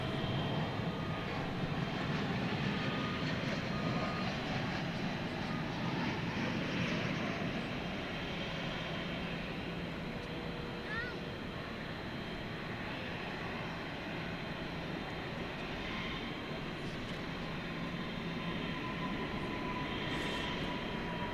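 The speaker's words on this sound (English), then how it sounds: "This Airbus A320 coming in from Silao." A Viva Aerobus Airbus A320 arriving at Dallas Fort Worth airport produces a continuous, moderately loud jet engine roar with a faint whine, steady for the whole stretch and heard alone.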